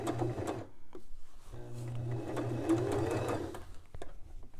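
A sewing machine back-stitches the waistband of a pair of pants, whirring in short steady runs with brief pauses between bursts, close and moderately quiet.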